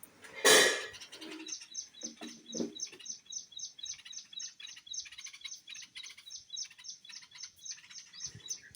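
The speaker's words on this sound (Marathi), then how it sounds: "एवढा चिमण्यांचा चिव चिव चिव असतो" Sparrows chirp in a quick, repetitive series of bright tweets, preceded by a loud rustle and a few soft knocks.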